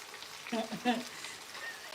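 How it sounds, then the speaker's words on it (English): Ugali cooking in a pot on a stove, giving off a soft sizzle and bubbling crackle that swells in two brief bursts midway, then settles back to a low, steady hiss. "I'm going to reduce my heat. And I'm going to cover this and let the ugali simmer."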